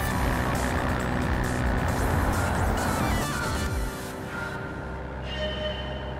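Messerschmitt microcar engine in Gran Turismo 7, a loud, steady, buzzing engine drone that shifts pitch and eases off midway through before settling into a lower hum.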